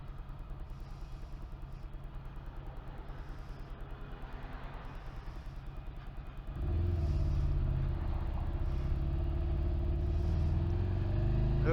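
Motorcycle riding along an unfamiliar road, a steady engine drone with wind rumble that jumps to a louder, fuller roar partway through as the bike speeds up, continuous and close with no talking.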